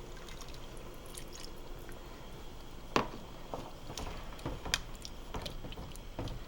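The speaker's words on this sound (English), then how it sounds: "Okay, so it's starting to boil. You can start to hear the rumble." Crab sauce with red wine begins to boil in a pot, giving off quiet bubbling pops and soft drips over a faint low rumble, close and irregular.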